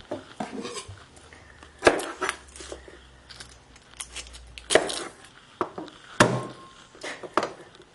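A garlic clove is smashed and peeled on a kitchen board: a few sharp knocks and thuds mixed with light clicks and scraping, close and moderately loud, with no talking.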